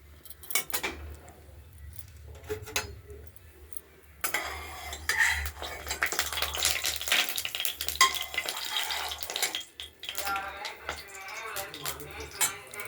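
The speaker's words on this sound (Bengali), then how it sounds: "এবার তেজপাতা তেজপাতা লঙ্কা জিরে ফোড়ন দিলাম" Bay leaf, dried chili and cumin seeds hit hot oil in a wok for a spinach curry, setting off a sudden loud sizzle after a quiet start, with utensil clinks and stirring around it.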